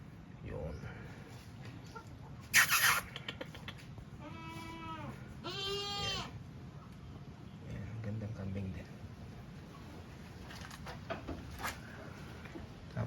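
Goats at an integrated farm give two clear, loud bleats mid-way, with a sharp chicken-like squawk just before and someone talking quietly in the background throughout.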